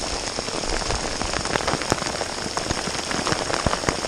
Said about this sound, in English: pouring down really hard right now, like cats and dogs